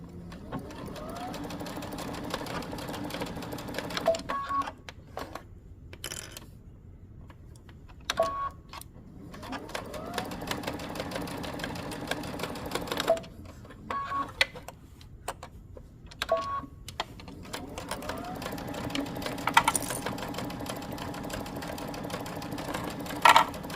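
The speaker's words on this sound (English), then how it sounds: "we're basting the edges of the neckband" A sewing machine runs in several bursts while basting the edges of a knit neckband, quiet rapid stitching that stops and restarts with short pauses between runs.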